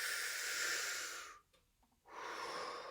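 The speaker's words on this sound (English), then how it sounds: "take a deep breath." A deep breath taken during a group violin class: a long, steady, airy rush of breath, a brief quiet pause with small mouth sounds, then another sustained breath, close up and alone.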